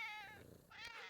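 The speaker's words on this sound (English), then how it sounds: "I've got a cat. I'm taking one of the cats home." A cat meows twice inside a GTA roleplay game, two short tonal cries with a brief gap between them, fairly close and clear with no talk.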